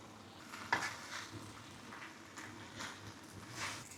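Flat rice noodles are stir-fried for char kuey teow, with a soft steady sizzle and a sharp utensil clink early on, then faint scraping and tossing in the pan, fairly quiet and without talk.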